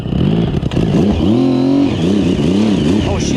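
A 1050cc Yamaha Raptor ATV engine revs hard during a donut attempt, with loud, close, rising and falling pitch sweeps in repeated surges and some clatter.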